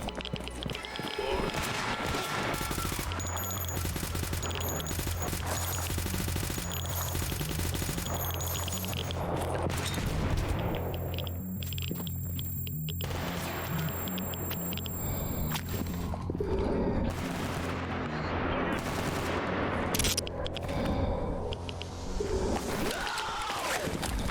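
Gunfire in the video game S.T.A.L.K.E.R. Anomaly, with shots crackling throughout a dense, steady combat soundscape and a low rumble and tonal layers beneath, holding a constant loudness for the whole stretch.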